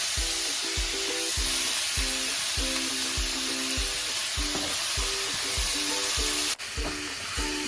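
Mint and tomato frying in a pan, a steady loud sizzle and hiss throughout, with repeated rhythmic stirring scrapes about every half second and one sharp knock near the end.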